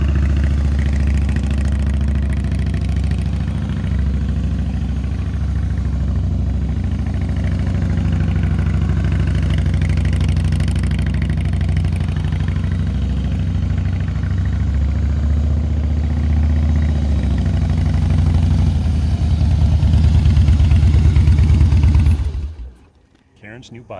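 A new motorcycle engine idles with a steady, loud, low rumble for over twenty seconds, close by, and then cuts off abruptly near the end. A voice can be heard faintly under the engine.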